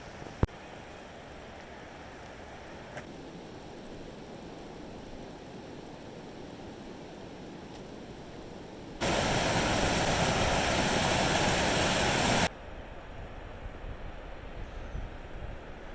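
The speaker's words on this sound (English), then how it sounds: "This is the French Broad River." The French Broad River at Hot Springs, North Carolina, rushes steadily as a dense, even wash of flowing water, with a markedly louder stretch of roaring noise partway through before it settles back to the steady flow.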